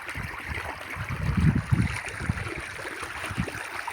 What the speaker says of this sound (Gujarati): જો આ કેવું પાણી વારે છે